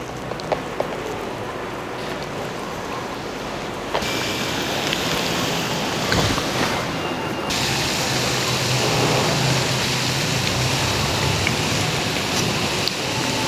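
Potato donuts frying in hot oil, a dense steady crackling sizzle that runs continuously and loudly throughout, brightening partway through as more dough goes in.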